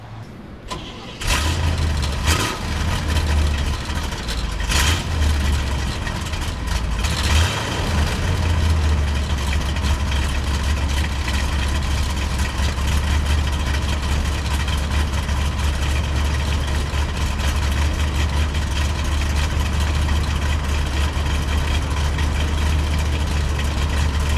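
A 1964 Chevrolet Corvette C2 engine cranks briefly and catches, then settles into a steady, close, deep idle with a low throbbing rumble that holds unchanged for over twenty seconds.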